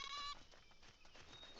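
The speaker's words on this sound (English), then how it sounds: "They sound like goats" A goat-like creature from the survival game ASKA gives a short bleating cry, moderately loud, then fades into ambient game sounds.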